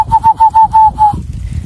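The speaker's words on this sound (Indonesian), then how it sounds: "Suara ini dipakai untuk perkutut biar cepat turun." A series of six soft, hollow whistled coos of a zebra dove call used as a lure, at steady pitch, evenly spaced and close, then a low murmur of background noise.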